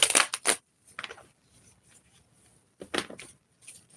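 Tarot cards being shuffled by hand: several brisk, crisp riffling and clattering bursts, close and fairly loud, separated by short quiet pauses.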